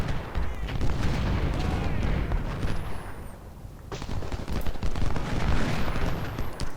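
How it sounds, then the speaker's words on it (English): Rapid, overlapping musket and sniper gunfire crackles through a Civil War battle at Gaines' Mill in Ultimate General: Civil War, with dense volleys and booming reports layered continuously and a brief lull midway. "Our snipers now also engage the enemy. And they're getting some good shots off."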